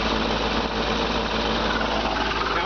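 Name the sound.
truck engine idling smoothly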